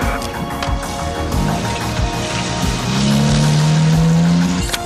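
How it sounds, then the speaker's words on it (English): A Porsche pulls away with its tyres squealing, loud and close. The engine note climbs steadily as the car accelerates, with a high, sustained screech over a rough road rumble. "No, the Porsche just leaving. I'm following."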